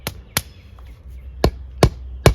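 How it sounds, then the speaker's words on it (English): Five sharp, heavy mallet blows strike a stone step of a retaining wall at uneven intervals, each a loud dull crack with a short ring, close by and with no voices. "If this hammer will allow it,"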